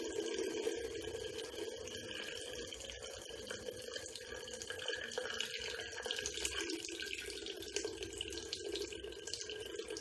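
A tap runs steadily into a sink as hands are wetted, a close, continuous splashing stream with small irregular spatters throughout.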